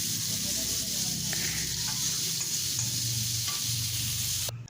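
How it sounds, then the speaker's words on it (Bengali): Potatoes fry in hot oil in a home kitchen pan, giving a steady close sizzle with occasional stirring scrapes; it carries on without pause and cuts off abruptly at the very end. "এখন আলু ভেজে নিচ্ছে।"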